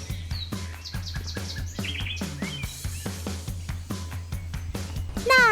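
Female weaver bird (burung tampo) calling near its nest, a busy run of short chirps and tweets repeating steadily, fairly close and alone with no talk.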